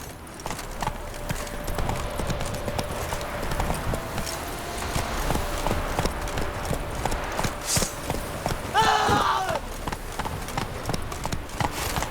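Roach, a horse in The Witcher 3, gallops with quick, continuous hoofbeats over rough ground, a loud drumming rhythm that swells near the end, with no speech over it.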